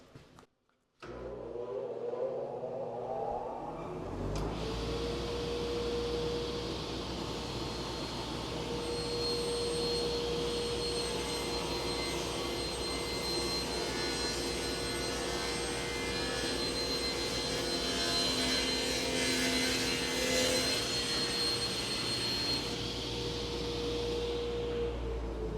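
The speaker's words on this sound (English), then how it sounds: "I hit dust collection and make the cut" After a quiet start, a track saw and dust collector spin up into a loud, sustained whine and roar while cutting a butcher block countertop, holding steady for over twenty seconds with no talk.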